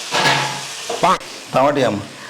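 Ginger sizzles in a pan for egg curry, a soft steady frying hiss sitting beneath a voice that talks over most of it.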